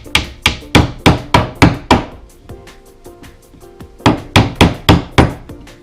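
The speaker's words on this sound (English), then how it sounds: "It's hammer time." Sharp hammer blows strike a wooden dresser in quick rhythmic bursts, about six rapid hits, a short pause, then another run of strikes, loud and close.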